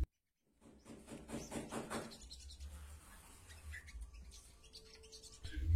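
Caged sogon birds chirp in a quiet room, a burst of quick, bright tweets early on giving way to scattered softer calls, with faint rustling and a low thump near the end.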